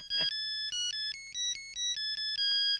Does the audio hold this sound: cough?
no